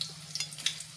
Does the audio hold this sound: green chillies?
yes